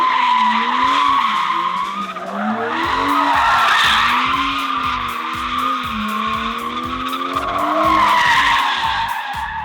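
A BMW E90 drift car skids through a transition, its engine note rising and falling under continuous loud tire squeal with rhythmic pulsing, close and sustained throughout.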